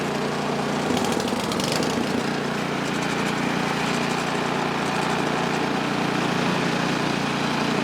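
A Poulan Pro PR241 snowblower engine runs steadily, loud and close, a continuous rough drone with a brief rattling clatter near the start.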